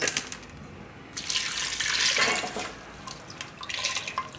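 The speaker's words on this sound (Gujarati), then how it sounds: "તો આમાં આપણે થોડુંક પાણી નાખીશું" Water runs from a tap into a pot of sweet potatoes for boiling, a steady close gush that splashes and swells, then fades and briefly returns.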